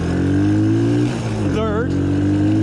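A 1983 Suzuki LT125 ATV engine pulling in second gear on old fuel: a close, loud, buzzing single-cylinder drone rising in pitch, easing briefly, then climbing again, with a rider's voice over it.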